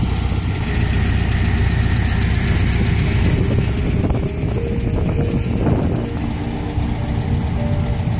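A 1967 Volkswagen Beetle convertible's small air-cooled engine idles steadily and close by, a continuous low chugging rumble with a faint vibration throughout.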